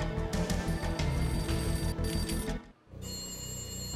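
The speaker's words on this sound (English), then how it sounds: "A beaten up phone in the entrance hall was ringing." An old, battered telephone rings in the entrance hall in the video game Max Payne, its bell sounding in rapid repeated bursts over a steady game background until it briefly cuts out.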